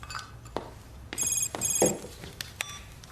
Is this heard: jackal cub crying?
no